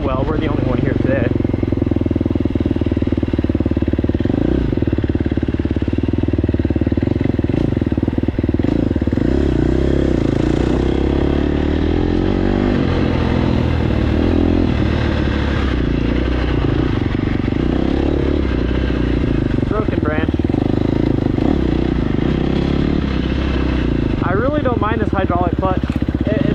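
A KTM 250SX-F four-stroke dirt bike with hydraulic clutch rides a quiet trail, its engine droning loud and close throughout with rising and falling revs, chain and body clatter, and wind noise over the top.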